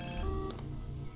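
Mobile phone ringtone in the video game Far Cry 3, a brief faint electronic ring over steady game background sound.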